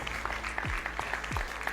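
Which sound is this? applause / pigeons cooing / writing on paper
applause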